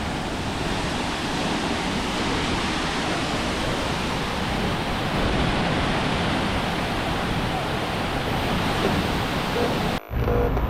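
Shifen Waterfall near Taipei, Taiwan, roars as a dense, unbroken wash of falling water, steady and loud throughout before cutting off abruptly just before the end.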